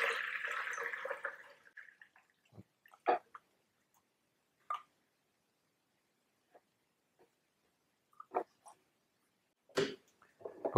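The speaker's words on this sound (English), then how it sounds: "I'm going to put in the water first here to get my mix" Water is poured into a container to mix black and white film developer: a short, steady pour at first, then scattered drips, taps and small clunks with quiet gaps between them.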